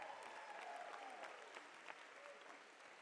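Faint, distant applause from a high school commencement audience, steady clapping with a voice or two briefly rising above it.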